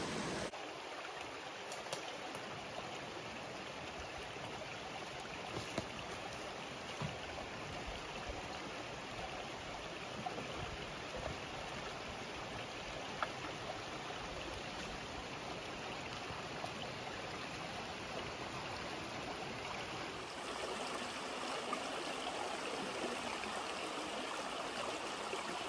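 A creek runs in a steady, even rush of flowing water that stays close and constant throughout, with no voices.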